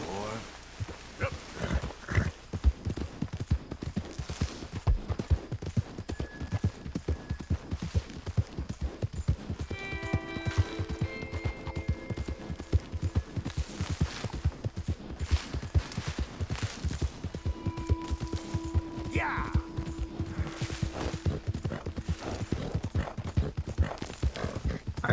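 A horse's hooves clip-clop steadily along a trail in the Western game Red Dead Redemption 2, an even, continuous trotting rhythm alongside brief in-game tones and faint background sounds.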